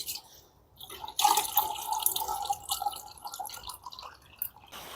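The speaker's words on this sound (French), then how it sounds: "Là, on tourne ici et on va pouvoir remplir les arrosoirs." Water from a tap splashes and gurgles into a watering can inside a greenhouse, starting quietly, then running loudly and steadily before tapering, close by with no speech.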